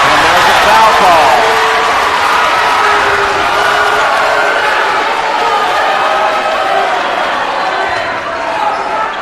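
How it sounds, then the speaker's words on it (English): Unhappy crowd at a high school basketball game between Windsor and Cardinal Newman reacting to a foul call, a loud sustained roar of boos and shouts filling the gym, fading slightly at the end. "Crowd is not happy with that call"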